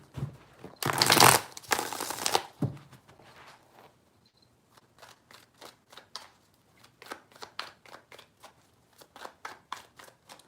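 A tarot deck is shuffled: one loud riffling burst near the start, then a quieter stretch of rapid, evenly spaced card snaps and flicks at close range, with no voice.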